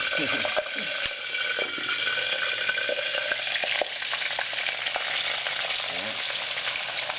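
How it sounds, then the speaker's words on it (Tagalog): Pork sizzles and crackles steadily in hot oil, a dense, close frying hiss with occasional pops and a faint stir of the pan. "kukulo uli yan, tapos titilamsik uli yan dahil naglagay tayo ng panibagong batch ng pork"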